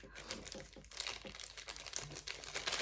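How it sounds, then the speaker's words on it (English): A package containing magnets being torn open and its wrapping crinkled close by, a busy run of crackling plastic rustles and small crunches that continues throughout, with no voice. "And I'm going to open this package right here because I think this is the magnet"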